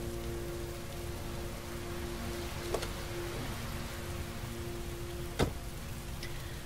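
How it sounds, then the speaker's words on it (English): Steady rain drums on a car while driving in the Heavy Rain video game, a dense even hiss with a faint low hum beneath and two brief sharp ticks, with no voices. "I'm driving in the rain."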